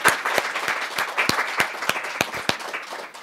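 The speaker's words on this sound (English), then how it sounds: "let's give our panelists a big round of applause" Applause for panelists at a nonprofit leadership careers event: a small audience claps close by, with distinct sharp individual claps in a fairly regular rhythm over softer background clapping.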